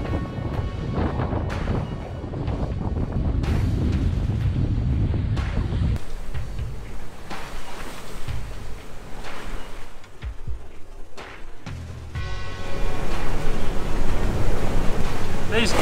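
Strong wind roars and gusts over open water off Nicaragua on a sailboat, buffeting the microphone, with waves and a motor rumbling underneath; no clear talking.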